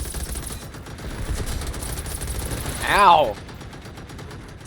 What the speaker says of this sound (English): Those machine guns are no joke.